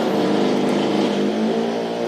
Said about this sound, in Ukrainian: От завівся трактор.